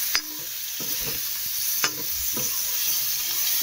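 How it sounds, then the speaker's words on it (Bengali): Cauliflower fries lightly in a pan with spices and no turmeric, giving a steady close sizzle broken by a few sharp clinks and scrapes of stirring, with no talk. "তো এই যে ডিম ভেজে নিয়েছি আর এই ফুলকপি বসিয়ে দিয়েছি।"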